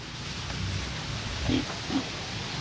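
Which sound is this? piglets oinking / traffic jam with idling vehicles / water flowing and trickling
piglets oinking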